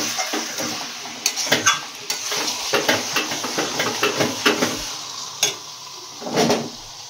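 Mutton is stir-fried in a pan, a low sizzling hiss broken by a rapid series of sharp spatula scrapes and knocks against the metal, close and fairly loud, with no speech.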